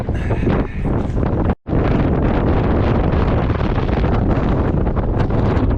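Strong wind roars continuously across an open beach during a recent storm, buffeting the microphone with loud, steady gusts and a brief dropout near the start.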